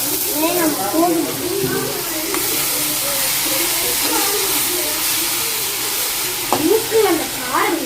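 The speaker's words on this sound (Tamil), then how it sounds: "இப்போ சப்பாத்தி போட்டுருக்கா" Chapati cooking on a hot pan at home at night: a steady soft sizzle and hiss throughout, with voices talking over it at the start and near the end.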